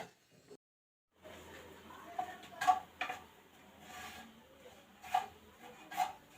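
Grated fresh coconut being stir-roasted in a pan for aliv ladoo gives soft rubbing and scraping, with a few light clinks of a spoon against the pan, quiet and close.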